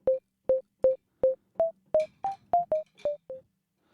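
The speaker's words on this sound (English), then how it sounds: "now we are starting to get a more plucky sound." Short plucky synth notes from the FL Studio 3xOsc synthesizer, eleven clean, isolated tones in an even rhythm, each decaying quickly, with pitch shifting slightly upward partway through.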